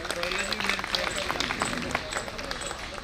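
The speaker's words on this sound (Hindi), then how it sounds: "साथियों, तालियों से स्वागत करिए।" An audience at an engineers association New Year celebration applauds as guests are welcomed onto the stage, a steady wash of clapping with a voice and crowd murmur running over it.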